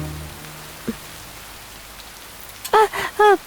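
Heavy rain falling at night, a steady close hiss of rainfall throughout with a brief voice-like sound breaking in toward the end.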